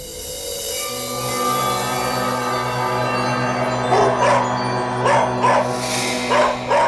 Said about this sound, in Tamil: முதல்ல இந்த நாய் அடக்குங்க இல்ல.